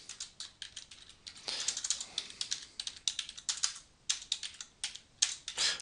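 Typing on a computer keyboard while building a basic HTML web page: rapid, uneven bursts of close key clicks with short pauses between words, no talk.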